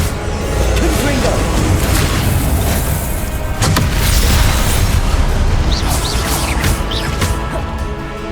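Confringo fire spells burst in combat in the PS5 game Hogwarts Legacy, booming blasts over a dense rumbling battle soundtrack with voices shouting in between.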